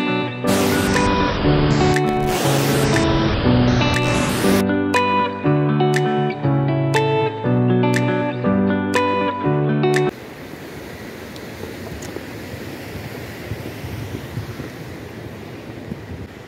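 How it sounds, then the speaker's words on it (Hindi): Music plays for about ten seconds, then gives way to a steady, broad roar of a mountain waterfall on a Himalayan trek near Kasol and Kheerganga, continuous and fairly loud. "कैसा लगा वाटरफॉल?"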